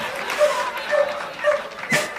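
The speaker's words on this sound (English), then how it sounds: "Sounds like happy barking." A dog barks several times in short, evenly spaced yips, moderately close, with faint background noise between barks.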